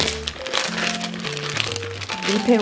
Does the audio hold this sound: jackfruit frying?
no